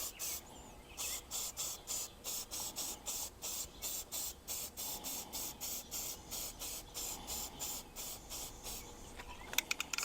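Short rhythmic bursts of aerosol spray paint hiss in quick succession as camper hardware gets coated, each spray a brief airy whoosh repeated steadily, with a few small clicks near the end and no talking.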